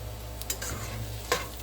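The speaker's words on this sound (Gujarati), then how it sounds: "તો હવે આને એકદમ મીડિયમ તાપ પર સોતે થવા દઈશું" Chopped onions sauté in a pan over a medium flame for masala pav, a faint steady sizzle with a couple of soft stirring scrapes, quiet and without speech.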